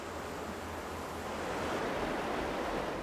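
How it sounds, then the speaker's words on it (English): Steady rushing river water flowing over rocks surges and hisses continuously, swelling slightly louder partway through, with no voices. "That water just, it's just relaxing to hear it go through there like that."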